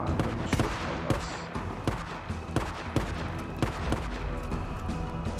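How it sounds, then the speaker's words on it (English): Enemy gunfire in the Days Gone video game during a horde fight, with repeated sharp cracking shots in an uneven rhythm over a steady background. "They're shooting at us."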